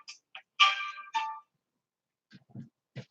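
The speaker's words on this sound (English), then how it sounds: "I'm sorry, my phone just went off." A mobile phone ringtone goes off during a live craft session: a bright electronic melodic phrase of several quick tones, then a pause and a few lower, softer blips, heard close and alone.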